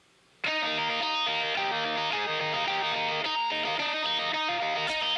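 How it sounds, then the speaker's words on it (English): Two electric guitars play a steady chordal worship arrangement, one washed in reverb on the right and the other clean and dry on the left, sounding continuously, full and close, with no talk. "you'll hear the reverb in the right side and the guitar clean and dry on"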